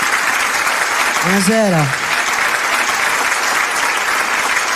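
Studio audience applause greets a guest on an Italian radio-TV variety show, a steady broadband wash across the clip while a voice speaks a brief greeting over it.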